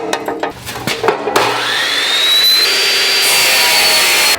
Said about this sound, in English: To cut up the metal, I've got my abrasive chop saw here.